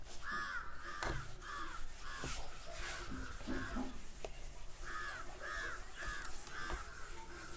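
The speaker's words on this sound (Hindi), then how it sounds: "मस्त एकदम कौआ बोल रहा है" A crow caws outdoors in a village, its harsh calls repeating in a loose rhythm about eight times at moderate distance over a faint rustling, rubbing background.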